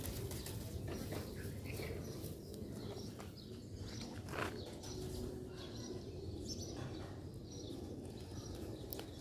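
Sialkoti 'Badshah' pigeons, a black-faced pure strain kept in a loft, coo softly and steadily, faint beneath a constant noisy background with a few scattered knocks and rustles.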